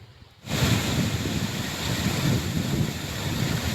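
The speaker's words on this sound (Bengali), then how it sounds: "এই দেখুন কি অপরূপ লাগছে, ঝর্ণার জলটা পড়ছে লেক থেকে।" Water pours steadily from a lake into a waterfall at a Meghalaya tourist spot, a broad loud rushing roar that begins suddenly after a brief quiet moment and continues unbroken, with no voices.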